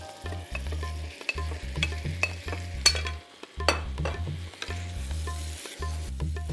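Prawns tossed in masala sizzle steadily in a pan while a spoon stirs and scrapes in a rhythmic, repeated pattern, close and fairly loud, with no talking.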